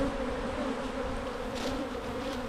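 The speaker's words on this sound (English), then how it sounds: "They're all nurse bees and they'll find their way back." Honey bees hum steadily around an opened spring hive at close range, a continuous mid-pitched drone with faint buzzy swells and no talking.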